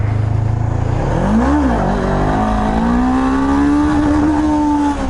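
Honda CB500F motorcycle accelerating hard into a wheelie; the engine note dips, then climbs steadily into a sustained loud rev with heavy wind rush, close to the rider and without talk.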